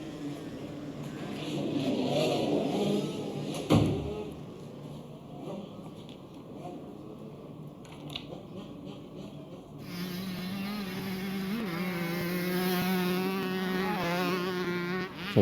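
Small-wheel motocross bikes racing through the first corners of a desert race prologue, engines buzzing and revving from a distance, a steady droning whine that rises in pitch toward the end.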